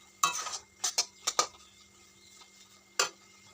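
A spoon clinks against a pan while ghee is stirred into carrot halwa, a handful of sharp separate knocks, some in quick pairs, with quiet gaps between, close but light.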